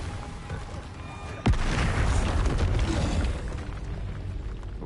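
A booming magical blast from the Bombarda spell bursts suddenly and loudly, followed by a rumbling roar and debris-like crackle that slowly fades over several seconds.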